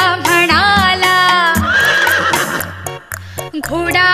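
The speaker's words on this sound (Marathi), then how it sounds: "घोडा" A horse neighs in a Marathi children's rhyme, letting out several loud, shrill whinnies in quick succession, close and prominent, with no talk over them.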